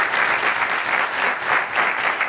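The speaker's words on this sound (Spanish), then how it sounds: "un fuerte aplauso para él" An audience at a gala for the 'Retadores' campaign applauds Antonio Mancilla, a steady, full wash of clapping that swells and eases in waves, heard alone without talk.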